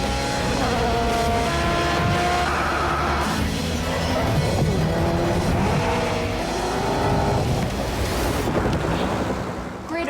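Race car engines in the racing video game GRID Autosport, heard as a continuous loud roar with shifting engine pitches and rising and falling revs, like several cars running together, with no talk.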